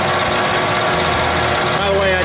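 A Wen 4214 benchtop drill press runs with a steady motor hum and belt-drive whir, loud and close, while a person talks over it.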